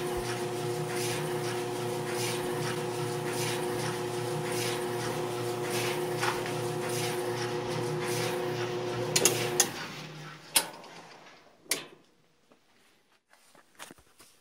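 A GE gas dryer runs after a repair, giving a steady mechanical hum with a whirring drum and motor drone for about nine seconds, then a few clunks and clicks as it winds down to near silence.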